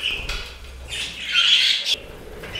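Budgerigars and finches in an indoor bird room give a brief flurry of close chirps and one longer squawking call, with steady chatter underneath.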